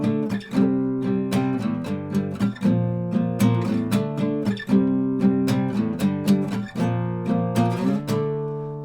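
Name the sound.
guitar playing a song's chorus chord part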